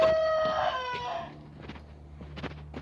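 A rooster crows once in a farmyard where all the hens were hatched, a long loud call, followed by quieter scattered hen clucks and scratching noises.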